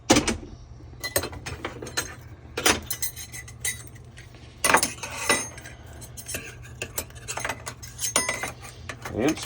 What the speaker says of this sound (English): Give it a little stir, a rinse here.